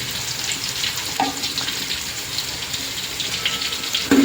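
Chopped onions sizzle and fry steadily in a hot pan on a home stove, a close, continuous crackle with no voices.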